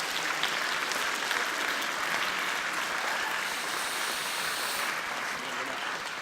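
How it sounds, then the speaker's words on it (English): Steady audience applause for guests walking onto a stage at a school event, a dense wash of many hands clapping that holds evenly for several seconds with no voices on top. "please give them a round of applause as they come to the stage"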